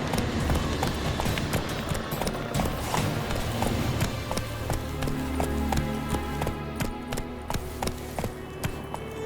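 Horse hooves in The Witcher 3 clatter in a rapid, continuous galloping rhythm, close and fairly loud, with sharp individual hoof strikes standing out over a busy background.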